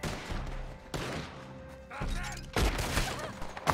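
Red Dead Online gunfire played on PC comes in several sharp bursts of shots and thuds, fairly loud, with a heavy volley near the end.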